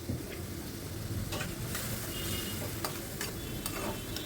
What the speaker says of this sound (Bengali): আমি অল্প একটু জল দিয়ে ভালো করে কষাচ্ছি।